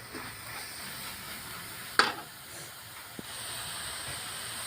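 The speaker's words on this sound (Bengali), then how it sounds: "মশলাটা আমার কষানো হইতেছে।" Spice paste frying in a pan while cooking a large rohu fish curry with tomato, giving a steady soft hiss throughout with a sharp sizzle burst partway through and a small crackle later.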